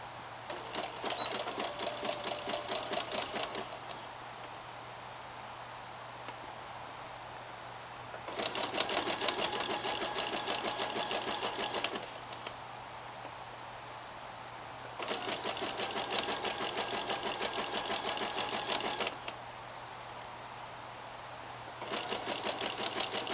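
Sewing machine stitching Frances leggings just away from the seam, running in four bursts of rapid, even stitching separated by quiet pauses, close and fairly loud over a faint background hum.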